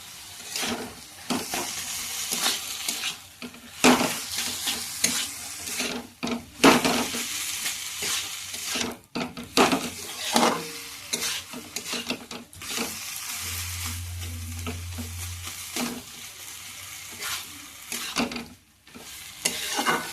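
Potatoes and banana flower frying with spices, stirred repeatedly in a pan, giving bursts of sizzle and scraping strokes in an uneven rhythm with quieter gaps between.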